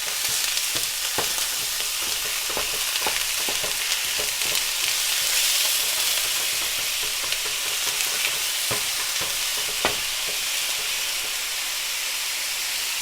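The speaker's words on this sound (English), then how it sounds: "I have the ground turkey here. I'm just gonna drop it in the pan." Ground turkey searing in a hot pan for Asian lettuce wraps, a steady loud sizzle and hiss with scattered scraping knocks as a utensil breaks up the meat, close up with no voices.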